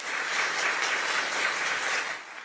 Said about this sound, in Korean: 윤석열 대통령이 강연을 위해 개요대 강당에 입장하자 객석을 가득 메운 학생들이 박수로 환영합니다